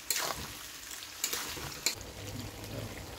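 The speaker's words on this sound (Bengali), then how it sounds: "আমের টুকরোগুলো আর কি ভাজা হয়ে গেছে।" Mango pieces frying in oil in a pan for sweet mango pickle, a steady close sizzle with a few sharp stirring scrapes and clatters, no voices.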